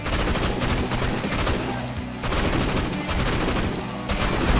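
Rapid gunfire bursts crackle in the Sleeping Dogs video game during a car chase, loud and repeated in clusters over a busy game soundscape.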